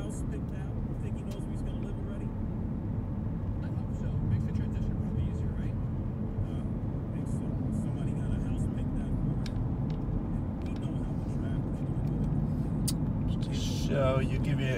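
Car driving slowly through a residential subdivision in West Knoxville, Knox County, with a steady low road and engine rumble throughout and a person talking over it.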